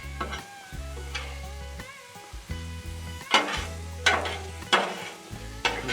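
Chicken and vegetables sizzle on a Blackstone griddle while a spatula stirs and scrapes them in repeated, close strokes, with music playing underneath.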